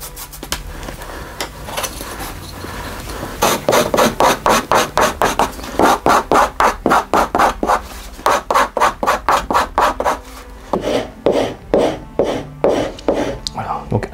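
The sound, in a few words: burnishing leather strap edge with a wooden block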